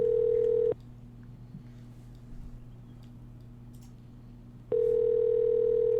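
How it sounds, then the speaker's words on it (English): An outgoing telephone call rings back during a live radio show: two clear steady ring tones, one at the start and one near the end, separated by several seconds of quiet line hiss, with no voices. "Hopefully you should hear ringing."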